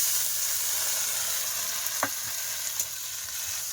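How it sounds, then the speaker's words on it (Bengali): Browned onions sizzling in oil in a pan as spices go in, a constant soft frying hiss with a couple of brief stirring scrapes. "পেঁয়াজটা লাল হয়ে গেছে, এবারে যাবতীয় মশলা দিয়ে দেবো।"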